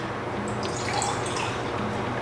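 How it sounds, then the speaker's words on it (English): Juice poured into a small mason jar, a steady close liquid trickle with faint dripping, continuous and fairly quiet for the whole stretch. "I'm gonna pour it in this little mason jar I have."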